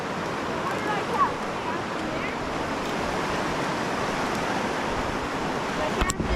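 Fast-flowing river water rushing past a rocky edge, a steady, close, broadband roar of current that continues without a break, with occasional small splashes on top.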